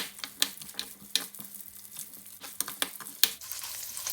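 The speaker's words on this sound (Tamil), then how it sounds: "இப்போ ஒரு பாத்திரத்தில் வந்து கொஞ்சம் நல்லெண்ணெய் விட்டு அதுக்குள்ளே வெங்காயத்தை முதல் போடுவோம்." Onions frying in sesame oil in a pan, a soft crackling sizzle with scattered small pops and ticks close by, fairly quiet and irregular throughout.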